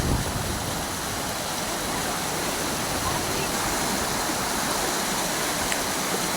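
Strong river current rushing steadily, a dense, even broadband roar of flowing water close by, continuous throughout with no breaks.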